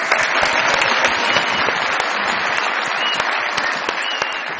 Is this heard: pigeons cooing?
no